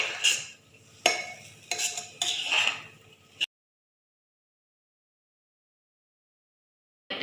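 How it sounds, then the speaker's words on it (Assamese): Coconut, carrot and rice being fried together in a pan, heard as bursts of scraping, stirring and clinking of a utensil against the pan over roughly three seconds, followed by silence and a brief return of stirring at the end. "মই নাৰিকলখিনিৰ সৈতে গাজৰ আৰু চাউলখিনি কিছু সময় ভাজি ল'ম"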